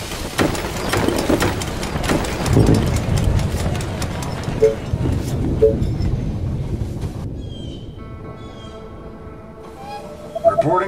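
A train pulls into a station in the strategy game They Are Billions, with a rumbling, clattering rail sound and rhythmic clicks that fade out, followed by chiming tonal game effects and short bursts of in-game voice.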